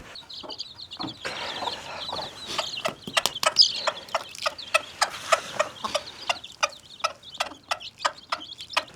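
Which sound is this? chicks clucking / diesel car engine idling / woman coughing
chicks clucking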